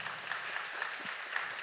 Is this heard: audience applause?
yes